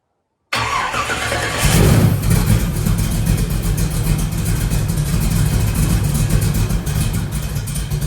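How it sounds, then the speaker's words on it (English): A 383 stroker V8 with Holley Terminator X Max Stealth fuel injection cranks and fires up, then settles into a loud, lumpy, steady idle close by with no talking. "we're gonna try to get it started, get it idling"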